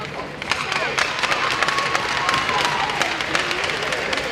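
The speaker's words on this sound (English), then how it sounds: "Let's give a round of applause for the Squirt Bees." Applause and cheering from an arena crowd during a ceremony at a high school varsity boys hockey game, steady and dense clapping with crowd noise throughout, moderately loud.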